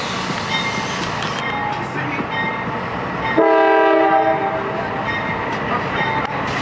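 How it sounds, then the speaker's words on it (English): A big train passes close by in Valdosta, Georgia, its loud rolling rumble running throughout, with a long, steady horn blast sounding over it partway through. "That is the big train here."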